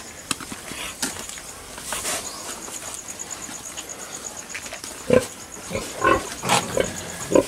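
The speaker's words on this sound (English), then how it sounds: "I do want to check these pigs in here, see what's going on." Pigs in a pen give short snorts and grunts that grow more frequent toward the end, close and clear, with scattered clicks and rustling in the background.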